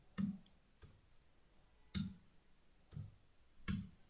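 Keys pressed one at a time on a computer keyboard while typing Hindi text, five separate soft clicks at uneven intervals with quiet gaps between them and no talking.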